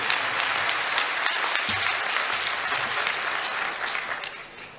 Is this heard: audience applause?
yes